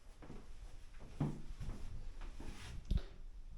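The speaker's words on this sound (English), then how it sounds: "Now with the door closed." A hotel room door in a three-star hotel in Harrogate swings shut, giving a soft knock followed by a firmer closing thud near the end, heard indoors over quiet room noise.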